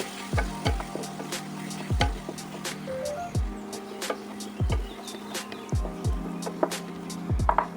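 Ground spices including Kashmiri chili, cumin, coriander and garam masala sautéing in a pan, a close sizzle broken by sharp, regular scraping strokes of a spatula, about a dozen over several seconds.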